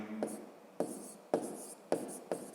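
A pen writes by hand on paper in a quiet room, producing short scratchy strokes in a loose rhythm of about five bursts, close and fairly faint, with no talk.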